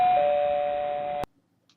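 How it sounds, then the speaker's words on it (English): A single electronic doorbell tone rings steadily for about a second, then cuts off abruptly into silence. "pressed the doorbell"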